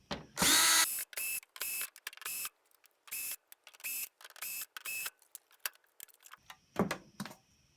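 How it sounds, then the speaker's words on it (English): Power screwdriver removing screws while dismantling a TV set, a series of short close whirring bursts broken by pauses, followed by softer clicks and handling. "now it's just a matter of unscrewing"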